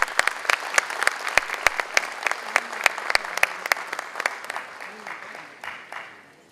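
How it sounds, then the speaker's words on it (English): Audience applause for Congressman Raskin at an anniversary event in Montgomery County, sharp individual claps ringing out over a softer bed of clapping that gradually thins and fades toward the end. "Please give a hand of applause."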